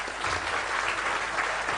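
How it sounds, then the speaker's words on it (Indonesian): Steady applause from an audience at an Indonesian talk gathering honouring Pak Kivlan, dense clapping at an even level with no voices over it. "tepuk tangan untuk beliau"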